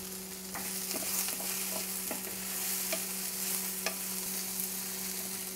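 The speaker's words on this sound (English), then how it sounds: "I'm going to add the ginger and the garlic." Whole garlic and ginger fry in a pan for Pakistani curry, giving a steady close sizzle with occasional light pops and soft scrapes of stirring, over a faint low steady hum.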